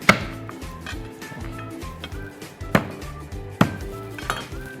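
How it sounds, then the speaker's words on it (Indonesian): Nutmeg seeds are crushed for a tuna rendang, giving three sharp knocks spaced a second or two apart, with softer taps between them, over quiet background music. "biji pala kita geprek dikit aja"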